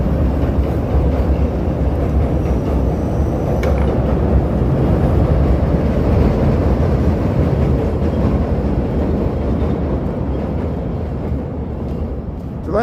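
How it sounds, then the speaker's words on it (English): A Chicago Purple Line elevated train passes as a steady, heavy rumble with broadband roar that holds for several seconds and then slowly eases toward the end, heard outdoors on a city street. "We got a train coming by."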